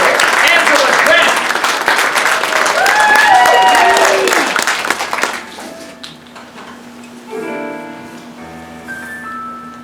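Audience applause at a stage show fills the first five seconds with dense, loud clapping, then fades as music with singing takes over.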